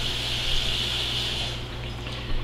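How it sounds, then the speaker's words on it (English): Water runs steadily from a kitchen tap in a continuous close hiss with a low hum underneath, no talking. "The water's still running."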